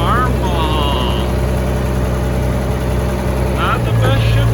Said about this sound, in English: Not the best shifting tractor.